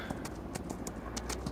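Horses' hooves clip-clop steadily in Farming Simulator 25 while riding, a continuous stream of close hoofbeats over a constant low game background.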